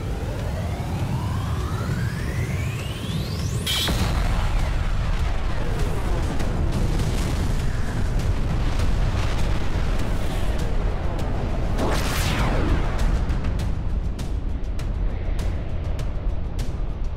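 Transformers machinima battle: rising whistling missile launches and heavy explosions crash over a constant loud rumble, with a sharp blast early and another streaking launch later, dense and unbroken throughout.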